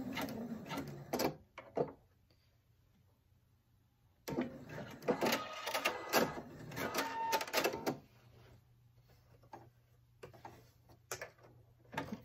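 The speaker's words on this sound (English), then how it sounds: "I just sewed it down the sides across the bottom" Sewing machine stitching fabric scraps, heard up close in two rapid mechanical bursts of clattering stitches with quiet pauses between, alone without talk.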